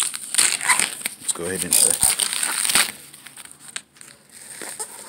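Cardboard Christmas gift box being opened, with crinkling and crushing noises under a person talking, ending in a quieter stretch.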